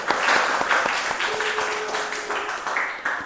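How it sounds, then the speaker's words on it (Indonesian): Classroom applause from a 10th-grade high school religious education class, a scattered group of hands clapping in a steady patter, moderately loud and somewhat roomy, with faint background voices and a brief tonal hum in the middle. "Oke, tepuk tangan dulu."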